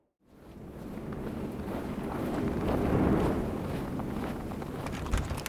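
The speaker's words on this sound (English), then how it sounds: "Man, that wind sure came up fast." Wind blowing outdoors in a country setting rises from silence into a steady broadband rush, swelling to a peak midway and then holding at a fairly loud level.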